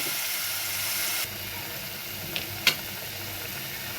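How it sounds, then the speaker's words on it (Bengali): Water from a blender poured onto fried garlic in hot oil, giving a broad loud hiss and sizzle that drops slightly partway through, with a couple of faint clinks and no talk. "রসুনটাকে ভেজে নিয়েছি, এখন ব্লেন্ডারের পানিটুকু দিয়ে দিচ্ছি"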